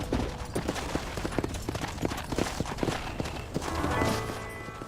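Horse hooves in the Xbox 360 western game Red Dead Redemption clop in a rapid, uneven rhythm, fairly loud and close, over a busy game soundscape with rising noise toward the end.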